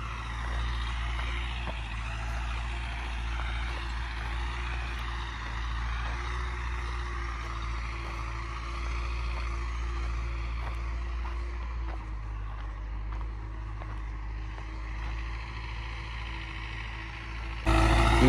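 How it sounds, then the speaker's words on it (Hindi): A tractor pulling a laser land leveler drones with a steady diesel rumble at close range, with a low mechanical hum that shifts slightly partway through; no talking. "ये जी ट्रैक्टर चल रहा है"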